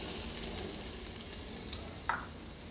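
Chopped onion sizzles steadily in hot olive oil in a pan on a stove, a soft continuous frying hiss with a brief utensil clink near the end.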